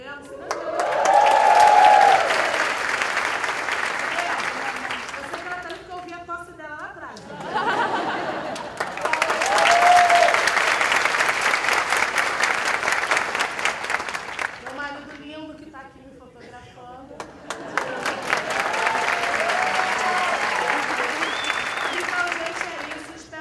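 A theatre audience applauds at the end of a live comedy show in Brazil, with long waves of loud clapping and some cheering. Someone speaks over the crowd between the bursts.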